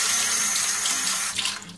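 Water gushes steadily from a kitchen tap as hands are rinsed, a loud, continuous splashing hiss that shifts slightly near the end as the flow is disturbed.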